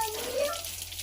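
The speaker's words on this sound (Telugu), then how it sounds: "Hand wash చేసుకుంటున్నావా?" Tap water runs steadily into a sink as a two-year-old toddler washes hands, a close, soft continuous splashing hiss throughout.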